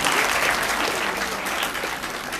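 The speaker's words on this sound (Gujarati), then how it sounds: "જોરદાર તાળીઓ થઈ એમના માટે" Loud, dense applause from an audience at a primary school function greets a guest, a continuous clapping roar that stays steady throughout.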